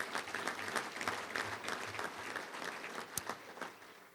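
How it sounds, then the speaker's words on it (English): At a touchdown club luncheon, a room applauds at fairly low level, with a steady patter of many hands and a soft rhythmic thump underneath. "Let's give all of them a round of applause"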